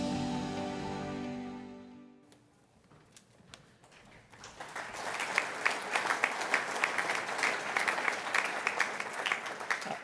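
A sustained musical tone fades out, then audience applause at an awards ceremony builds and continues as a dense, steady round of clapping.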